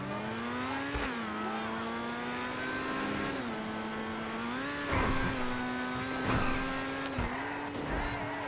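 A Kia Stinger in a racing video game revs hard with wheel spin, its engine tone climbing and dropping through gear shifts over a steady hum, with brief tire squeals and thumps, no talk.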